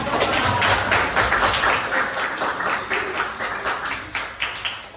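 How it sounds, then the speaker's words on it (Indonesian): Classroom applause for the first group presenting during a teacher training session, a dense, steady patter of many hands clapping for several seconds and slowly thinning out toward the end. "Tepuk tangan."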